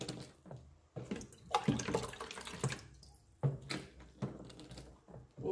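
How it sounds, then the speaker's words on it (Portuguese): Water being poured into a basin in batches, irregular splashing bursts separated by short pauses, fairly quiet and close. "Vamos colocar mais água até a bacia dar conta aqui."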